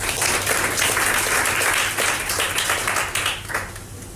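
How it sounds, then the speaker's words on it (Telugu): A church congregation at a Friday worship service in Kuwait claps together in loud, dense, sustained applause that tails off slightly at the end. "ఆరాధన నడిపించిన యవనస్తులకు మరొకసారి గట్టిగా చప్పట్లు కొట్టేస్తుంది"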